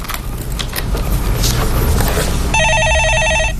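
An electronic telephone ringer trills in a steady repeating pattern during a Korean stock-market call-in show, starting partway through and ringing loudly over studio background noise.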